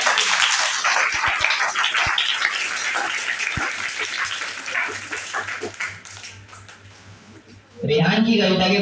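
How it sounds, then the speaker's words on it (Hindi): Audience applause at a school poetry recital, a loud dense patter of clapping from many hands that fades near the end before a voice starts speaking. "जोरदार तालियां"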